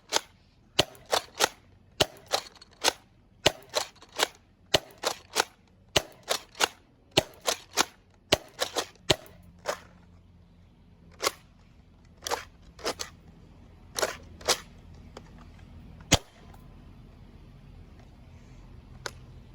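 A Nerf Hyper Rush 40 blaster fires standard hyper rounds outdoors in a rapid series of sharp, loud pops that gradually slow into spaced single shots.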